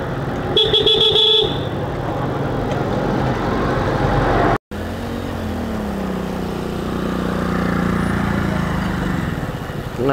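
Traffic jam on a rain-soaked, rough road, with car horns honking in a burst of repeated toots early on, then steady engine rumble of idling and creeping vehicles nearby.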